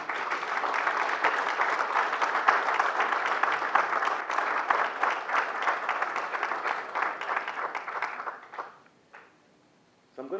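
A crowd at a corporate shareholder event in Ghana applauds with sustained, even clapping for about eight seconds before it fades to near silence, then a short sound at the very end.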